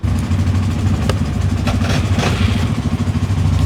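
An ATV quad bike engine runs near Prizren, a loud, steady, throbbing idle with a metallic clatter throughout.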